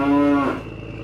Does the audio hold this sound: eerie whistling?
no